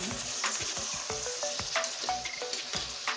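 Potatoes sizzle and fry in a pan for a rohu fish curry, a spatula scraping and stirring in repeated close strokes over the steady crackle of hot oil.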